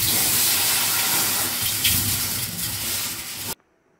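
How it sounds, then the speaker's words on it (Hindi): Cold tap water gushes steadily over a freshly tinned brass wok for a few seconds, then cuts off abruptly into silence. "ठंडे पानी से हमें फिर इसको धो लेना है"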